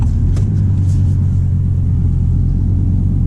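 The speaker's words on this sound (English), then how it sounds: "what I think I'm going to do is pull over and let these fine cars go by" Cars roll past on a road while an Audi R8 Spyder V10 Performance sits pulled over, a steady loud engine rumble with low droning tones and no talk.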